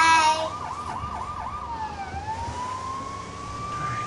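Police car siren in a LEGO City video game wails in a rising and falling pattern, then settles into a long sweeping tone, moderately loud over a low hum.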